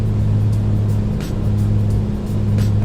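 A Comanche 250 piston aircraft engine in Microsoft Flight Simulator drones steadily and loud, a constant low hum with strong tonal harmonics and only slight dips in level, with no voices over it.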